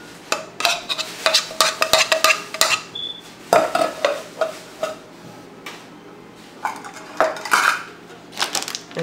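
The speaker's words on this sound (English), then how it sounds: "I'm gonna put that in a bowl." Firmly pressed dry ingredient being scooped and tapped into a bowl, a close run of clinking and scraping of utensils against dishes in quick irregular bursts, with a short quiet stretch midway.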